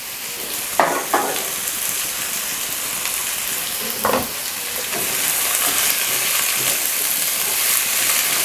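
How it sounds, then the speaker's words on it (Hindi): Finely chopped potatoes frying in a pan for a Spanish omelette, with a loud continuous sizzling hiss that builds toward the end and a few stirring scrapes early on, with no talking. "और अच्छी तरह भून के पका लेंगे।"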